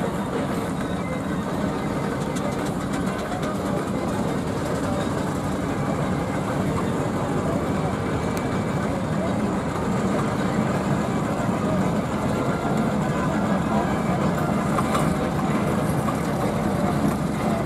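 Steam traction engine running at a steam rally, a steady dense mechanical rumble and chuffing close by, continuous throughout with a busy outdoor background.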